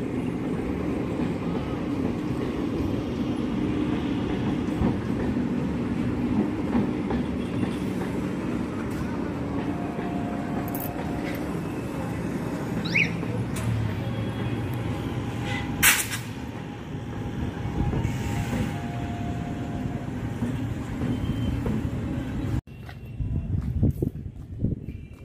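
Two trains pass each other on a railway, a continuous rumble of rolling wagons with clattering wheels and scattered metallic squeals, then an abrupt drop to a quieter scene near the end.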